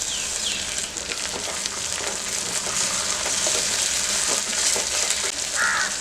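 Ginger garlic paste sizzles and crackles steadily in hot tempering oil with browned onion, a bright continuous fry close by with light stirring and a faint bird call in the background.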